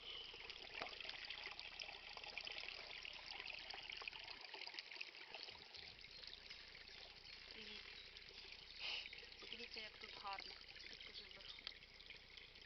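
Water trickling and flowing into a sewer drain outdoors in Kozovshchyna, a steady continuous wash of running water with people talking over it throughout.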